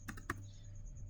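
A few quick keystrokes on a computer keyboard while entering a Cisco access control list command, close and quiet over a faint steady hum.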